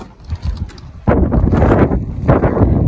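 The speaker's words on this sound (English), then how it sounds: "Wind's blowing, snowing." Wind gusts roar outdoors during a snowstorm, buffeting the microphone with loud, rough rushing noise that swells sharply partway through and stays strong, with no voices.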